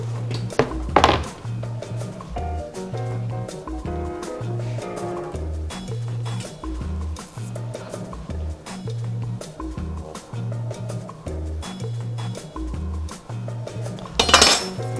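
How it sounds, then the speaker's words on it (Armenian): Repeated knife taps and clinks on a board or dish as thin sausages are cut, steady chopping rhythm with a low thumping beat underneath, plus a louder clatter near the end. "կտրատում ենք նրբ երշիկները։"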